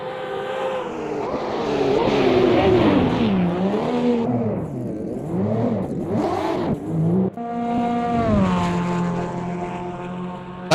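Corvette race car engine in the Automobilista 2 racing sim, loud and close, its pitch sweeping up and down through repeated revving and gear changes, then holding a steady high drone near the end.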